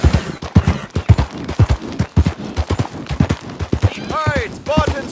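A horse gallops in Red Dead Redemption 2 along train tracks, hooves pounding in a fast, loud rhythm with someone talking over the running steps.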